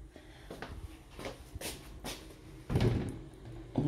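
An apartment door in a sea-view flat in central Batumi, Georgia, opens or closes with a few soft knocks and a louder thud near the end, heard close up in a quiet room.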